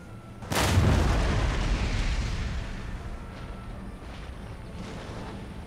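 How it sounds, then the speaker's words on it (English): A line infantry rifle volley in Empire Total War cracks out as one loud massed burst, then rolls into a long fading rumble with faint distant shots trailing behind. "I'll let these guys fire off one more volley."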